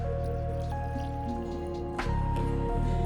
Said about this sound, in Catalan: cobrim amb els 2 litres d'aigua